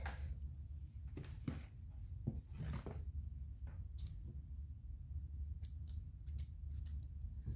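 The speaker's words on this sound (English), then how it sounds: "we're going to use scissors to cut it." A few sharp snips of scissors cut through yarn while crocheting an amigurumi, spaced irregularly against a quiet room hum.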